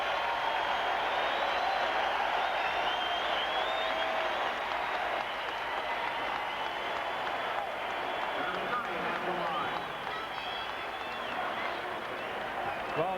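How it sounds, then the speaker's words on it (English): A basketball crowd in the Cavaliers' Gund Arena in Cleveland cheers and applauds after a foul in a Lakers game, a dense, sustained roar of clapping and shouting that fills the whole span at steady loudness. "Listen to the noise in Gund Arena."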